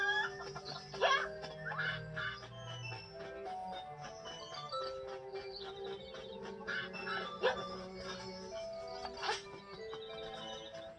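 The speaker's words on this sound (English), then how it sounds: "Now that I've revived the flying rooster" The flying rooster in Zelda: Link's Awakening clucks in bright, chirpy electronic tones, with several sharp cluck bursts layered over looping game music and effects.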